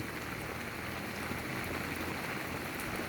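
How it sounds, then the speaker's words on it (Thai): Rain falls steadily outdoors, a soft, even hiss of drops on surfaces with no pauses and no voices. "วันนี้ก็ฝนตกอีกเช่นเคยนะผม"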